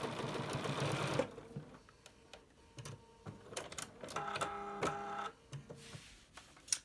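A sewing machine stitches across the bottom of a reusable snack bag, a rapid mechanical chatter in short bursts separated by pauses, close and moderately loud with no talking.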